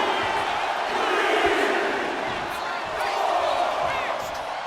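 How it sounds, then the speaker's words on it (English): A packed arena crowd roars steadily in the WWE 2K25 wrestling video game during an Undertaker match, a dense continuous wash of cheering that swells and eases, with voices mixed in. "The crowd is fired up."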